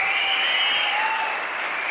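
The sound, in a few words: audience applause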